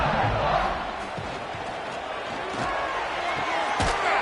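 Stadium crowd roars steadily in Western New York during an Iowa Hawkeyes versus Iowa State Cyclones college football game, a dense continuous wash of noise with a few sharp thumps and claps rising out of it.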